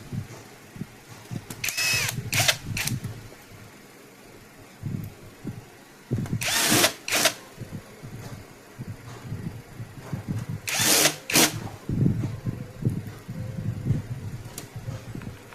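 Power screwdriver driving screws back into a Konzert clone amplifier during repair, heard as three short high-pitched whirring bursts spaced several seconds apart, with handling noise and a low hum between them.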